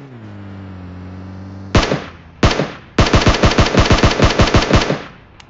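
Gunfire in the video game PUBG Mobile: after a low hum, two single loud shots ring out, then a rapid automatic burst of about a dozen close, evenly spaced rounds.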